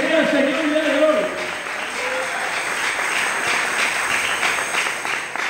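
A church congregation breaks into steady, dense clapping that fills the space, with a voice speaking briefly over the opening moment before the applause carries on alone.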